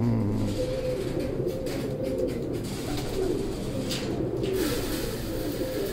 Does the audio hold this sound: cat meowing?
no